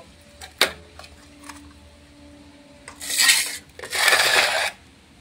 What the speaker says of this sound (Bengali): এবার আমি তালটা চেঁচে নেব।